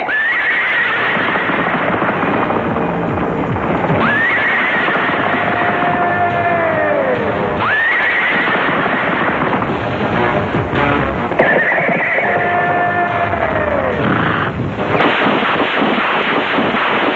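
Horse neighing and whinnying several times in a film scene, with hooves clip-clopping steadily underneath, loud and close throughout.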